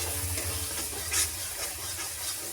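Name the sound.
stirring spiced chicken curry marinade in a pan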